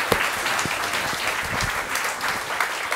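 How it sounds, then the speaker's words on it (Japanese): Audience applause fills the hall at the close of a keynote talk at a 2023 inbound tourism summit, a steady dense clapping from a large crowd with no voices over it. "皆さん大きな拍手をお願いします。"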